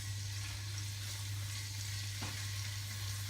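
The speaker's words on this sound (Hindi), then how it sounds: "पैन में थोड़ा सा ऑयल डालेंगे, इसके अंदर चॉप गार्लिक डाल लेंगे," Chopped garlic frying in oil in a pan, a steady close sizzle with a constant low hum underneath and no speech, holding at an even level throughout.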